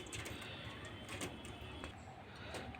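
A pair of old Giribaz pigeons cooing softly in a home loft, low muffled coos barely rising above faint background hiss, close by and quiet.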